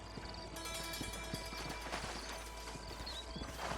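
A horse gallops with steady hoofbeats and neighs in the Western video game Red Dead Redemption, the clip-clop running continuously at moderate loudness alongside game ambience, with no talk.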